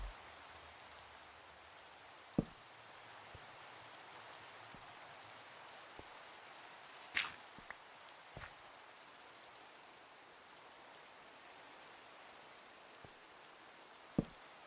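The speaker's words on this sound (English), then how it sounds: "I think that's only the second time this stream that it's been raining." Steady rain falls in a block-building video game, a soft continuous hiss with occasional sharp clicks and taps on top, quiet and without voices.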